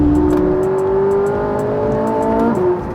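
A pre-owned Ferrari's naturally aspirated engine holds a loud, sustained high-revving note whose pitch climbs gradually, then eases off abruptly near the end.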